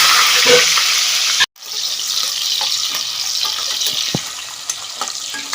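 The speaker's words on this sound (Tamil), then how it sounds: "இந்த கருவேப்பிலையும் சின்ன வெங்காயத்தை போட்டு வதக்கிடுவோம்" Curry leaves and small shallots sauté in hot oil in a pan for Kongu-style sambar, giving a steady close sizzle that cuts out briefly, then resumes with a few light clinks of stirring.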